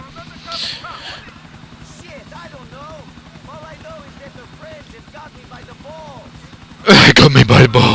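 A helicopter's rotor thumps steadily in Grand Theft Auto IV under game-style voices and effects, then a loud burst of noisy sound takes over near the end.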